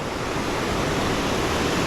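Floodwater rushing after record rainfall, a loud, dense, continuous roar of churning water close by with no pauses and no voices.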